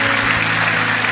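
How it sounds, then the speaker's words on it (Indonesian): A brief, dense wash of clapping from a crowd, loud and continuous, with a steady hum underneath. "sekali lagi berikan tepuk tangan yang meriah buat kami."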